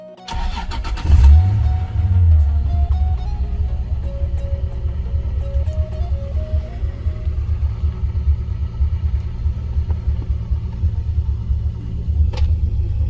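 Toyota Supra engine on its first fuel run, catching and starting with a brief loud burst, then idling and rumbling steadily as the car creeps off. No voices, with a faint click near the end.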